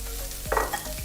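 Onions stirred in a hot frying pan, a brief burst of sizzling with scraping stir strokes, close and clear, no voices.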